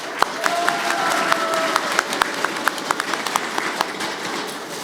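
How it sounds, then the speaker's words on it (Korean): Audience at a political rally in Wonju, Gangwon, applauds for the members of the National Assembly, a broad crowd clapping with sharper individual claps popping out near the front, a brief tone sounding early. "우리 오신 국회의원님께 큰 박수를 부탁드립니다"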